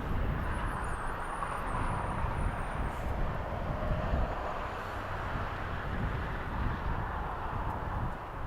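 American Airlines flight 271 departs LAX with a continuous loud jet engine roar that stays dense and steady, with no speech.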